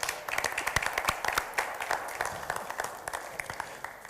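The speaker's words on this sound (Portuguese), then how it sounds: "podemos bater palmas" An audience clapping at a jobs-program signing event, a moderate crowd of distinct, fairly sparse hand claps in an uneven patter that thins out slightly over four seconds.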